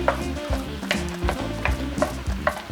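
A spoon scrapes and knocks rhythmically through vegetables in a hot pot while braising short ribs, repeated stirring strokes over a steady low sizzle, close and moderately loud, with no talking.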